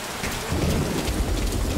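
Steady heavy rain with a low rumble of thunder in the stealth video game Metal Gear Solid V: Ground Zeroes, a dense continuous wash of sound with no voices.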